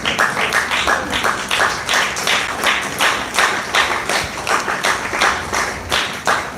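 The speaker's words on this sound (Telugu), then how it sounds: "Okay, claps." A group of people claps together at a family celebration, a steady run of bright, close handclaps that swells and dips in rhythmic waves for several seconds without any talk.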